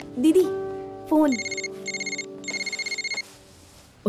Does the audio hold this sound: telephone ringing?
yes